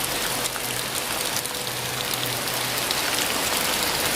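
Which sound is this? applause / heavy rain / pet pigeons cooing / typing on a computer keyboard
heavy rain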